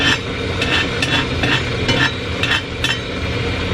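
Loud, constant sizzle of an egg frying in a hot pan, broken by a handful of brief bright crackles and a light utensil clink, with no talking.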